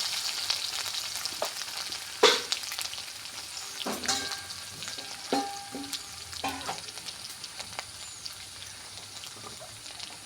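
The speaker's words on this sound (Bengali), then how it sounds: "শুকনো মরিচটা আগে ভাজে নিব।" Dry chili, cumin and crushed garlic frying in hot oil, a bright steady sizzle with a sharp spatter as ingredients drop in and a few utensil clinks.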